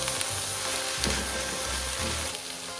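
Sprouted chana with crushed garlic and salt sautéing in a hot pan, giving a steady close sizzle with soft low thuds as the mix shifts.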